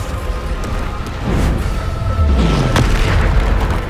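A Bombarda spell in Hogwarts Legacy sets off heavy booming blasts, a couple of deep explosions rolling out one after another over about four seconds, loud and close with no speech.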